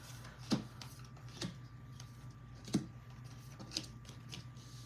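Tarot cards are shuffled by hand, giving a few soft, separate riffling snaps and flutters at uneven intervals over a quiet background, close and faint, with no talking.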